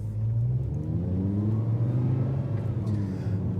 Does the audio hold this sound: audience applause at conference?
no